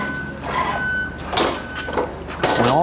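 Reversing beeps from a farm truck arriving home with other trucks, a few tonal beeps amid engine rumble and yard noises, fairly close.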